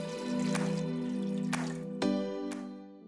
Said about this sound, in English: we're going to start off with a cup of water.